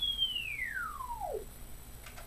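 Theremin tone sweeping smoothly downward from a high pitch to a low one as a hand moves away from the antenna, a single clean gliding note that fades out, heard alone.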